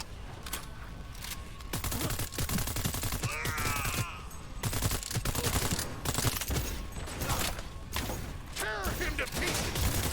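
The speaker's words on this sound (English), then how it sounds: "I'm shooting in the direction of the van" Gunfire in the video game Cyberpunk 2077: dense, loud bursts of automatic weapons fire roll on almost without pause, with brief breaks and mechanical clatter mixed in.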